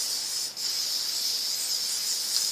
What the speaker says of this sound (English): And you're going to spray your sheet.